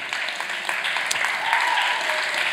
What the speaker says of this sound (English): Claps, claps and cheers.